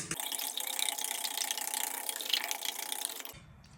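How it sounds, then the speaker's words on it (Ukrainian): Rapid, steady whisking of eggs, oil and salt in a bowl, a continuous scratchy clatter of a whisk against the sides, close up, stopping abruptly near the end. "Все гарненько взбиваємо"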